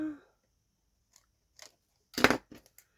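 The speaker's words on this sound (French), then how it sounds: "je vais couper ce qui dépasse." Scissors trim excess paper from a scrapbooking page: a few faint, scattered clicks, then one short, crisp cutting burst followed by small snips, close by in an otherwise quiet room.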